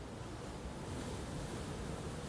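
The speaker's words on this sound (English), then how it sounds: "the sound of waves" Steady rolling surf of ocean waves, a continuous broad wash with a breezy, windy edge, fairly even in loudness throughout.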